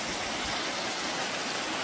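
Winter waterfall in the valley beside Pyochungsa temple, its unfrozen water pouring steadily in a dense, even broadband rush that fills the scene without pause, with no voices over it.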